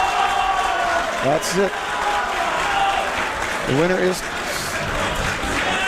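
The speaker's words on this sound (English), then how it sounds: "You can hear the crowd behind me." A crowd at a European arm wrestling championship final applauds and cheers throughout, a steady wash of clapping and voices behind a nearby commentator who talks over it.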